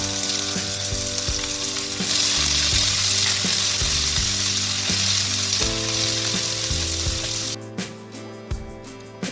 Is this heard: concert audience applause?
no